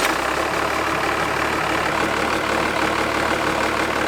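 A Cummins diesel engine runs at a steady idle on the Bonneville salt flats, a loud continuous low rumble with a constant rhythmic chug, close and alone with no talk.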